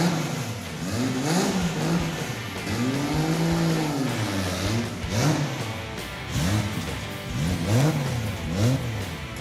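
A Mazda project car engine runs and revs repeatedly, the pitch rising and falling in several loud, close sweeps over a rough idle.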